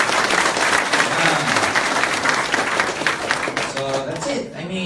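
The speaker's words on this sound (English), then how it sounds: "big round of applause" Audience at a distributor business event gives a big round of applause, sustained clapping from a crowd with voices mixed in, tapering slightly toward the end.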